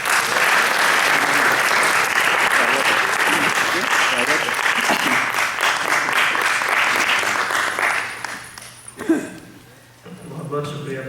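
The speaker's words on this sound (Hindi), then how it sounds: "तो जोरदार तालियों से स्वागत करते हैं" A crowd at a Holi event breaks into sustained, dense applause that stays loud and even for about eight seconds, then tapers off into scattered claps and a few voices.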